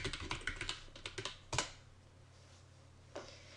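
Computer keyboard tapped in a quick burst of close, crisp keystrokes while entering login details, followed by a couple of isolated firmer key presses after brief pauses.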